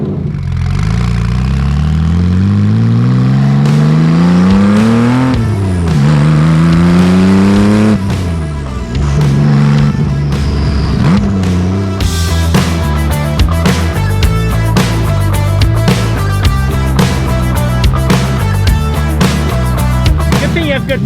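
A widebody RWB Porsche 911 with a swapped-in GT2 engine accelerates hard, loud and close. Its engine note climbs and drops through repeated gear pulls, with a dense, crackling roar in the later part.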